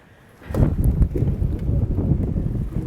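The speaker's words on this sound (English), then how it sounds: "That's really windy." Gusty wind blowing in through an open door, a sudden rise into sustained buffeting rush close to the microphone.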